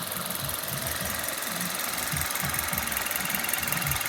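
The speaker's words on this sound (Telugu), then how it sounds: "ఆల్రెడీ ఇంజిన్ స్టార్టింగ్లోనే ఉంది" A 2023 Maruti Dzire ZXi petrol engine idles steadily, its low, knocking pulses repeating evenly and close by, with a faint hiss over the top and no voices.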